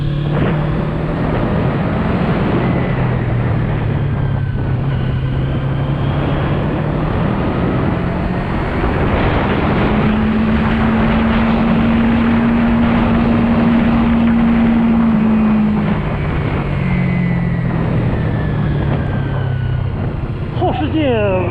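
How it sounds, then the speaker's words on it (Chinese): A Colove 321RR twin-cylinder motorcycle engine hums steadily during a test ride. Its tone rises and falls with the revs, and the pitch climbs and holds mid-ride over constant wind rush. "它主要还是发动机的声音，它就是没有一点点里面的有那种炒螺丝的声音"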